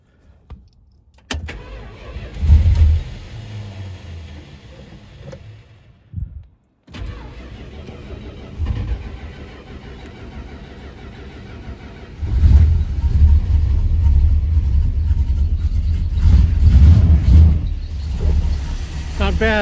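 Car engine with a Thermoquad carburetor cranks and fires, first a sputtering attempt, then catching and settling into a loud, steady running roar with revs rising, someone speaking at points.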